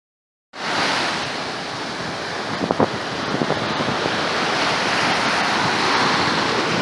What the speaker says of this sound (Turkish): Karadeniz çok dalgalıymış.